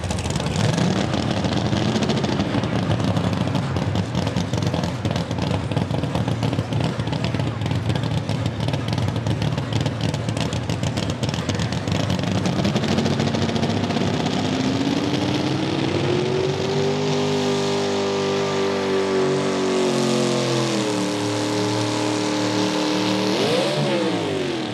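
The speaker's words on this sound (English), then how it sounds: "So a big Dodge Chrysler motor to power it down the track." A pulling tractor powered by a big Dodge Chrysler motor, the Red Ram from Dundee, Ohio, roars loud and sustained at a Lisbon, Ohio tractor pull, its engine pitch climbing steadily then wavering near the end.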